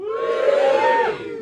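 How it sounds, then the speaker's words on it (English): A comedy club audience cheers and whoops together in one short, loud burst of voices that holds steady, then fades slightly at the end. "give us a cheer if you've been to Angel Comedy before"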